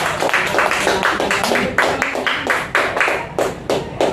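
A church congregation claps in praise, a loud, close volley of many hands falling into a rough, quickening rhythm of distinct bursts, with no talk over it.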